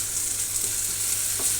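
Spices fry in a pan for cooking a drumstick and gram-dal fritter curry while being stirred, giving a steady, even sizzle throughout the short moment with no talking.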